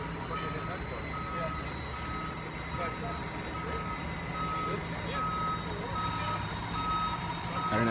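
A reversing truck's backup alarm beeps steadily in a repeating pattern at moderate distance, over a constant engine rumble in an apartment complex parking area, with people talking nearby.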